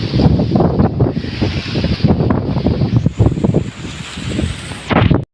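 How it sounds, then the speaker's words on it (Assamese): Strong gusty wind buffets the microphone outdoors on a rural farmstead during Goru Bihu, with loud rumbling roars and rustling that rise and fall for several seconds. "ইমান বতাহ মাৰি আছে।"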